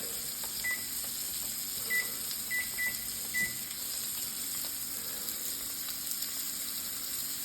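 A steak sizzles and fries in a pan with a steady, moderate hiss throughout, broken by a few short electronic beeps near the start.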